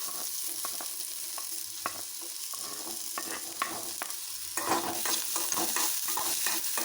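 Onion and carrot frying in a pan and being stirred for masala Maggi, a steady close sizzle broken by repeated scraping stir strokes that grow louder toward the end, with no talking.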